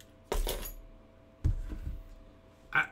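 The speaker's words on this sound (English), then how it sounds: "I was going to shake my keys." A bunch of shiny keys jangles in short metallic shakes, two quick bursts then a brighter jingle at the end, close and clear in a quiet room.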